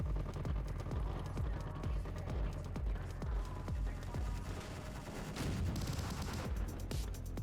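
Rapid autocannon fire in the space survival game Space Engineers, a steady stream of heavy thumping shots over dense, constant battle noise.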